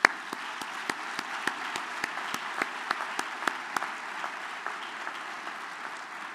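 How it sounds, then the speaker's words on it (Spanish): An audience at the Spainskills 2015 opening ceremony applauds steadily, a sustained wash of clapping with a few sharp, distinct claps standing out, heard at moderate distance with no speech over it. "Un aplauso especialmente para ellos."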